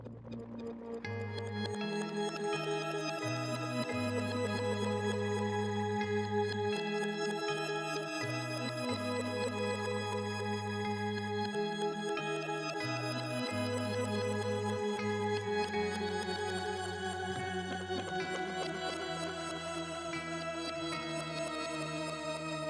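Ambient guitar drone from an Axe FX 2, layered with two slightly detuned pitch shifters, one an octave up on quarter notes and one two octaves up on half notes. It holds as a steady, dense, sustained wash with a shifting low bass line, loud and unbroken, with no talking.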